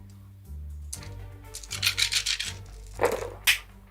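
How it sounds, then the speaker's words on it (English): Dice tumble and rattle across a tabletop during a live Battleship-style naval war board game, a quick cluster of dry clicks and scrapes against a quiet room, with a few soft knocks after. "there goes the dice"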